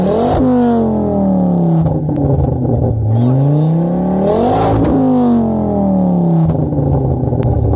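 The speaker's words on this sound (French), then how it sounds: "fais-moi quelques petits rupteurs pour le plaisir. Écoutez ça les amis, je vais mettre juste au-dessus de l'échappement" A Ford Focus RS with a stainless steel exhaust revs loudly right at the tailpipe, rising repeatedly to sharp bouncing cuts against the rev limiter before dropping back, with no talk over it.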